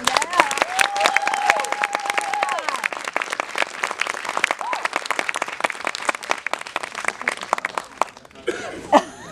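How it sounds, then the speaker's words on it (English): Sustained applause from a crowd, dense clapping filling the whole stretch with some cheering mixed in, fading as it ends. "Let's give them another round of applause."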